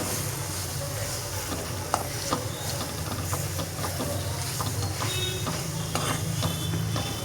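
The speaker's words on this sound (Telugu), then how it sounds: "మీడియం ఫ్లేమ్లోనే పెట్టుకొని చేసేసుకోవాలి హై ఫ్లేమ్లో పెడితే ఉత్తనే అడగంటిపోతుంది చూడండి ఈ విధంగా ఉల్లిగడ్డలలో ఎల్లిపాయ కారం మొత్తం కలిసిపోవాలి" Onions with garlic and chilli powder frying in oil over a medium flame, stirred continuously: an even, dense sizzle and hiss runs throughout, broken by frequent light scrapes and taps of the spatula, close and steady.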